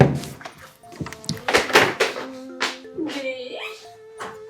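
Indoors, a door is pushed shut and locked, giving several sharp thuds and knocks with a scrape of the latch, while raised voices talk over and between the knocks.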